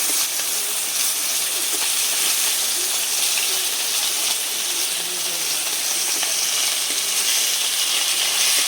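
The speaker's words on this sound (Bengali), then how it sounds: "এবারে মাছগুলো ভেজে নিচ্ছি মাছগুলো সব দিয়ে দিয়েছি কড়াইতে" Koi fish frying in oil in a wok give a steady, dense sizzle that runs unbroken and fairly loud throughout, with a faint voice in the background.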